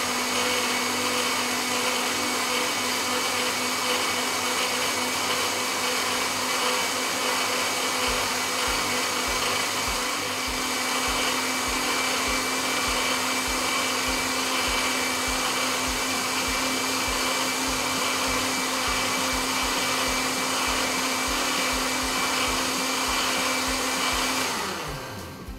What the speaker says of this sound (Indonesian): Kita blender sampai halus ya.